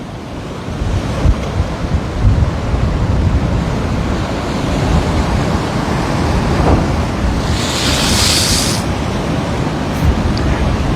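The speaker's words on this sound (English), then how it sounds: "I'm just going to let the lens get water on it because the waves are going to hit it" Ocean surf breaks and washes continuously at Waikiki, Hawaii, loud and close to the shore, with gusty wind buffeting the microphone and a brief spray hiss partway through.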